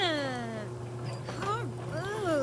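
A cat in The Sims 3 video game gives a few rising and falling meows, alongside a steady low game hum.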